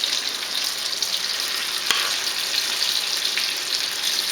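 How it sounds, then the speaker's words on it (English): Pieces of elephant foot yam shallow fry in hot oil, a steady, close, bright sizzle with faint crackles and one brief clink partway through, with no voices. "So now I am going to place the suran, that is elephant yam, one by one"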